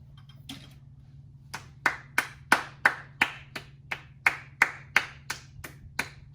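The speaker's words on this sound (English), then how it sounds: "let's give a round of applause real quickly" A single person claps slowly and sharply, about fifteen distinct claps in a steady rhythm after a brief pause, close and alone over a faint low hum.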